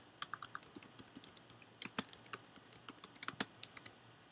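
Rapid clicking of keys on a computer keyboard as a title is typed, about two dozen crisp keystrokes in an uneven rhythm, close and fairly quiet with no talking.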